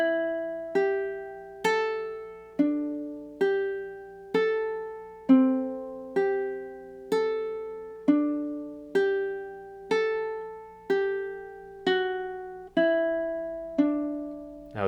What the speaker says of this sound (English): So those 2 measures combined should sound something like this.